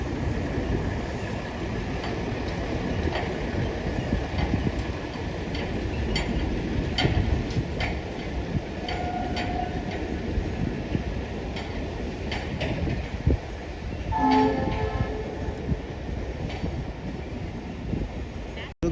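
A train running past near a waterfall viewpoint, heard as a steady broad rumble and rattling wagon noise throughout, with wind buffeting the microphone and a faint horn-like tone briefly midway.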